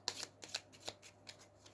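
A deck of game cards for By Stealth and Sea being shuffled by hand, a quick series of soft riffling flutters and taps, close and faint.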